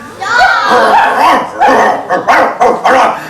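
A loose dog barks and yips aggressively, close and loud, in a rapid string of sharp barks that comes running up on a missionary colporteur outside a woman's yard.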